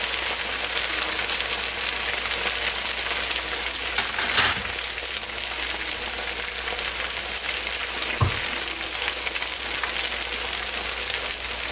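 Pho noodles fry in a pan with a dense, constant sizzle. A couple of soft utensil knocks come through the steady crackle, and no one speaks.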